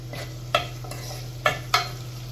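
Food fries in a pan until browned, a low steady sizzle under a hum, broken by three or four sharp clicks of a spoon stirring against the pan.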